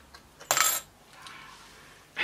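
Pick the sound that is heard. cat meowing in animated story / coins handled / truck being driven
coins handled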